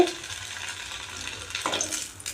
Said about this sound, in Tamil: எண்ணெய் சூடாயிருச்சா இல்லையான்னு பார்க்குறதுக்கு கொஞ்சமாக எடுத்து போட்டு பார்க்கலாம்